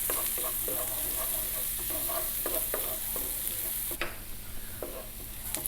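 Black pepper with garlic being stirred in a hot pan over medium heat, a steady close sizzle broken by repeated scraping stirs of a utensil against the pan, with no talk.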